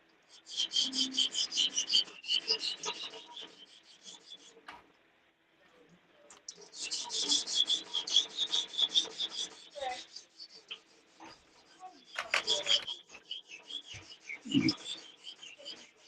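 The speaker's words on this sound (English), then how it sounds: "I'm sharpening a knife on my lock picking live" A knife blade is sharpened in three separate bursts of quick, rhythmic rasping strokes, moderately close, with short pauses between the bursts and a soft thump near the end.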